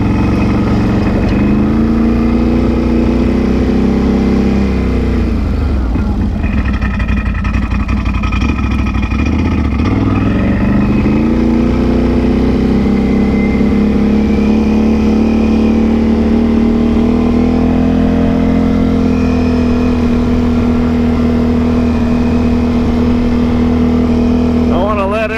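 A Can-Am Outlander XMR 850 ATV engine runs steadily and loud up close, a deep droning idle with shifts in pitch as revs rise and settle, with a voice speaking over it.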